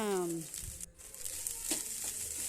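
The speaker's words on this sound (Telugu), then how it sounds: "ఆయిల్ వేడిన తర్వాత ఎగ్ అయితే కొట్టానండి" Two eggs cracked into hot oil in a pan sizzle and fry with a soft, steady crackle, fairly quiet and continuous after a brief voiced tone at the start.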